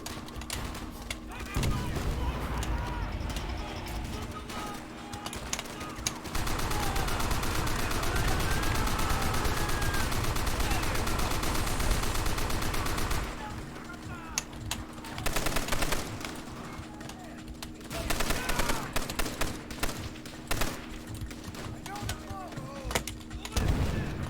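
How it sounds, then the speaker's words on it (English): Gunfire from the World War II video game Call of Duty: World at War, dense bursts of rifle and machine-gun fire pounding continuously for long stretches with brief lulls, mixed with voices and game sound. "Take aim. Open fire!"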